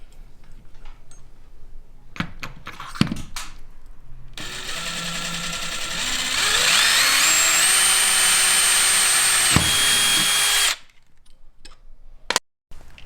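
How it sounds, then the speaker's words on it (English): A power drill bores a mounting hole in a Jeep Gladiator for a Rhino Rack Backbone system, running steadily for several seconds after a few clicks and knocks, then stopping, with loud close whine and no talk. "I drilled that first hole with a 5/16"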